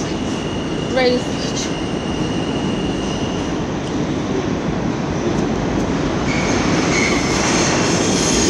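A New York subway train rumbles steadily with a continuous roar, a brief high squeal near the start and faint tones later, recorded close up.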